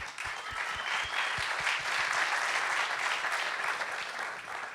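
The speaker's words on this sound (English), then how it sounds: "round of applause for these guys." Sustained audience applause for panel guests at a craft brewers' conference talk, a dense, even field of many hands clapping that holds steady for the whole stretch.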